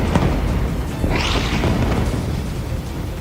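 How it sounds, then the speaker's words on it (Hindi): Airstrike explosion hitting a tower building in Gaza, a single dull boom about a second in with a brief hiss of debris after, set within continuous rumbling noise. "पहले धमाके में बिल्डिंग का बायां हिस्सा टूटकर नीचे गिरता दिखा"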